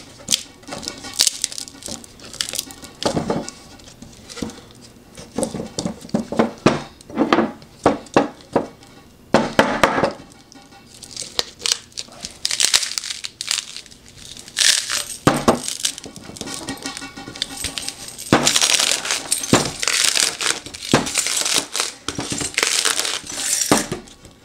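Frozen cylinder being worked out of an Ice Genie ice mold: repeated hard plastic clatters, cracks and scraping crunches of ice in irregular bursts throughout, loud and close with no talking.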